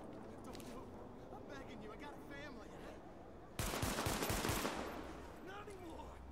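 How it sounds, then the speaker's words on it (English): Gunfire in The Division video game: a sudden burst of rapid automatic shots erupts partway through, loud and dense for about a second before tapering, with a voice talking through the rest of the moment. "We're gonna shoot them."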